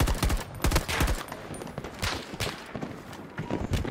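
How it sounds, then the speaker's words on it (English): Gunfire in the shooter video game Battlefield 2042, a rapid burst of close shots followed by scattered, irregular reports, with some quieter speech now and then. "And I'm about to get sniped."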